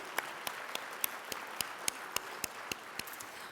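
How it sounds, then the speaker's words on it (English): Faint, steady, evenly spaced clapping, like a small number of people applauding at an event honoring Ken Burns, with crisp individual claps over a quiet room tone. "Let's clap for you."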